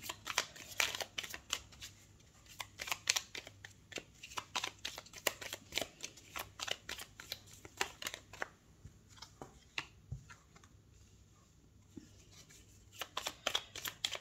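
Fortune-telling cards are shuffled and laid out by hand, close and quiet, as a run of quick riffling flicks and soft slaps. A short pause falls midway before the rapid card handling resumes.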